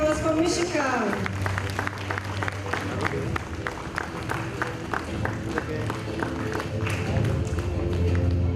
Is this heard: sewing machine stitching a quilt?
no